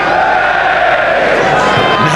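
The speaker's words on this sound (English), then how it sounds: "Derby cheering every time they pass." A packed football crowd at a West Ham United match in the 1998–1999 season cheers with loud, sustained roaring that stays close and dense throughout and never lets up.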